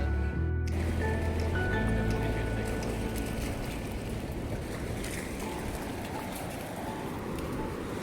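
Ocean waves wash onto a beach as a steady, loud broadband rush of surf and wind that holds throughout, with no clear talk.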